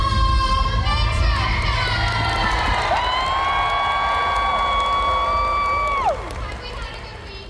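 A convention crowd yells and cheers in a loud, dense roar, with a long shrill held cry rising above it before the noise drops off near the end; a voice speaks briefly over the din.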